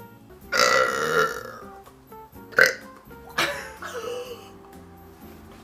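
Loud, drawn-out burps from a woman, one long belch followed by two shorter bursts, close and prominent in a quiet room with faint background noise.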